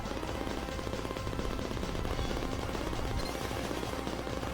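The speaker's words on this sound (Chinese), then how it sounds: "把这个机枪抢下来，用机枪打2形态。" Rapid, continuous machine gun fire from the arcade game Cadillacs and Dinosaurs, a dense rattling burst of retro game shots running without pause, loud and up front.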